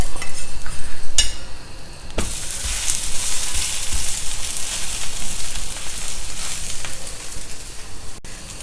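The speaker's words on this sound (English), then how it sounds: "Add some oil all around the dosa." A millet dosa, just flipped, sizzles in oil on a hot pan, a loud continuous crackling hiss with a couple of sharp clinks and scrapes of a utensil, with no one speaking.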